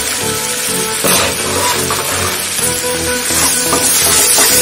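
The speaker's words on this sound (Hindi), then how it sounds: "मैं यहाँ थोड़ी सी मैगी मसाला डाल दे रही हूँ" Maggi masala sizzling and frying in hot oil in a pan with potato and spinach, a steady loud hiss with occasional stirring scrapes, heard alone without talk.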